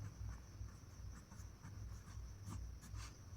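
Pen or marker strokes on a board during a physics lesson on convex lenses, a series of faint scratchy taps and scrapes over a steady low hum, with no talking.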